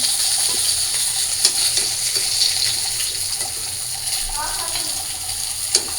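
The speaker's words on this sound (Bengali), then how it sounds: "তো আমার মাছ ভাজাগুলো শেষ, আমি মাছ ভাজাগুলো নামাই নিই।" Fish fries in hot oil in a pan while pieces are lifted out, giving a steady loud sizzle with a few sharp clinks of a utensil against the pan.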